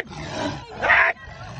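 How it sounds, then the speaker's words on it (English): A tiger roars fiercely as it charges, two loud, rough bursts with the second louder and closer, then a short drop into quieter rumbling at the end. "Its fierce roaring and the intense look on its face send chills down"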